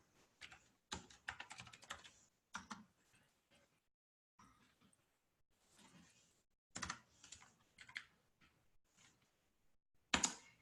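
Someone typing a short note on a computer keyboard, with irregular clusters of quick, close, soft key clicks separated by pauses and a sharper tap near the end, in a quiet room with no talking.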